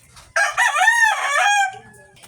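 A pet rooster lets out a single loud, close cock-a-doodle-doo crow that rises and trails off, with faint clucking before and after.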